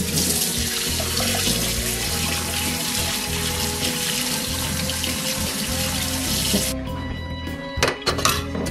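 Tap water runs steadily into a sink while blood is rinsed out of a freshly caught Long Island trout, a loud continuous splashing that stops after several seconds, followed by a few clinks and handling noises.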